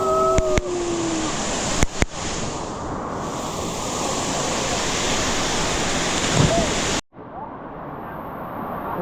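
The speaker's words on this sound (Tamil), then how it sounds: "பாருங்க எப்படி இருக்கு பாருங்க, அந்த அருவி விடுறது" Kawasan Falls pours as a steady, loud roar of rushing water, with brief clicks and knocks early on, then cuts out abruptly near the end before the roar resumes.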